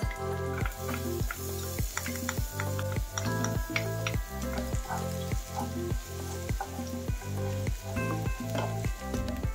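Garlic sizzling in a frying pan while cooking ginisang sitaw, a continuous crackling fry heard under rhythmic background music with a regular beat, no talking.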